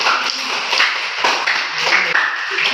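Classmates in a school classroom applauding a presenting group, a loud, close burst of many hands clapping unevenly throughout, with a few faint voices mixed in.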